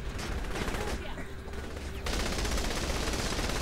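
Gunfire from the video game Saints Row The Third, a dense rattling stream of rapid shots that drops briefly mid-clip, then surges back loud and continuous.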